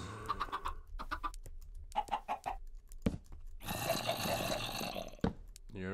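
Chickens in the Minecraft video game cluck repeatedly in short choppy bursts, followed by a louder, denser stretch of clucking and squawking, close and clear with no talk over it.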